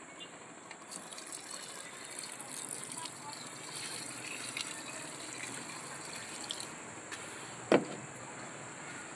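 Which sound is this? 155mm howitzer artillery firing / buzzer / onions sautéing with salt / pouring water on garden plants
pouring water on garden plants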